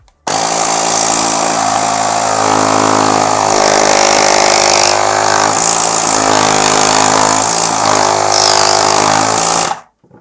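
An Aspiring Storm 3 ST.90W air compressor starts abruptly and runs loud and close for about nine seconds with a steady, buzzing motor drone, then cuts off sharply.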